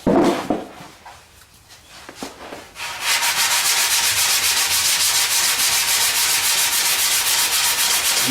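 Steady, continuous rubbing of 80-grit sandpaper across a car fender body line, starting after a few scattered scrapes and quieter handling, then running loud and even with a fast back-and-forth rhythm close by.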